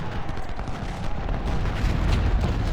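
Cannon fire from Civil War 6-pounder artillery in the video game Ultimate General: Civil War, a dense rumbling barrage of overlapping booms, loud and continuous.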